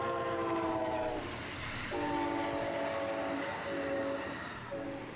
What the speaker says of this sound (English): I also got to witness one of those super fast Amtrak trains while I was here.